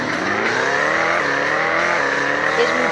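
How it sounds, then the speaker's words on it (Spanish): A Ford Mustang accelerates hard, engine note climbing steadily through the revs with a brief shift, loud and close throughout with no talk over it. "Ya se ve que es mucho mejor la aceleración del Mustang."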